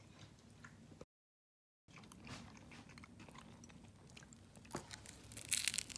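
Close-up wet chewing and smacking from a person eating a cheeseburger with gooey melted cheese, steady soft mouth noises with brief crunchy bites, faint and continuous apart from a short silent gap.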